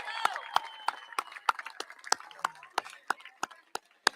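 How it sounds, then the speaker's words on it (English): Scattered clapping from an audience at a partnership announcement between the Buffalo Bills and Maple Leaf Sports & Entertainment, sharp individual claps spaced apart rather than a full ovation. "Would you give the loudest round of applause to our young people?"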